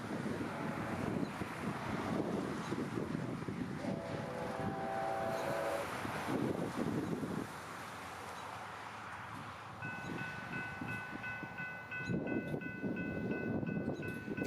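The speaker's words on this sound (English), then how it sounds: "Three engines, just enjoying a nice day." A freight train led by three engines rolls past on a Norfolk Southern main line in Kentucky as a steady, broad rumble. Wind buffets the microphone throughout, and a brief horn tone sounds partway through and again near the end.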